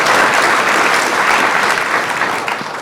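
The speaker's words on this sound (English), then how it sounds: "Round of applause for that." Crowd applause at a motivational talk, a thick continuous wash of clapping from many people that stays loud and steady, easing off a little at the very end.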